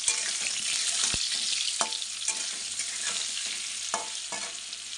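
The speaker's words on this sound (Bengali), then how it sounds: "লবণ দিয়ে এখন একটু ভালো করে ভাজা হবে," Salted taro pieces fry in a black wok with a continuous close sizzle of hot oil, broken by several sharp scrapes and taps as a utensil stirs them.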